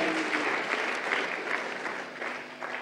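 A church congregation applauds the Lord, a dense, steady wash of many hands clapping close and loud that holds for a few seconds without a break.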